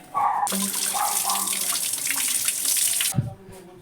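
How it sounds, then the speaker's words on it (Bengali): A fork is rinsed under a running household water tap, the steady hiss of flowing water filling most of the clip with brief metallic clinks before the tap shuts off near the end. "এটা তো এটা কল থেকে ধুয়ে নিয়ে আসতে হবে"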